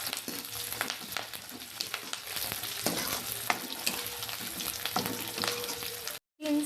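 Green peas for dal rice khichdi fry in a pan with a steady, close sizzle and repeated stirring scrapes, then a sudden brief cutoff near the end.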